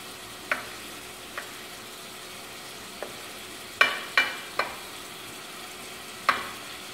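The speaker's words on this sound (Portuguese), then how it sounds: "Dá uma mexidinha." Shrimp risotto being stirred in a pan while it sautés, with a soft steady sizzle under scattered clinks and scrapes of the spoon, a quick cluster of them in the middle.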